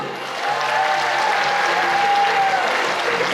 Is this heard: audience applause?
yes